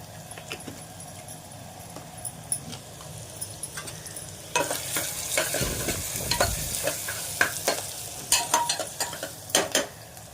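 Finely chopped onion sautéing in a pan for a spinach curry, with quiet scraping and clinks at first, then a louder burst of sizzling and irregular stirring strokes that continues to the end.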